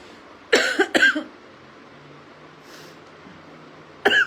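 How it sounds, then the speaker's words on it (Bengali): A person coughs twice in quick succession, then once more a few seconds later, close and sharp against a quiet room background. "কথা বললে কাশিটা বেড়ে যায়।"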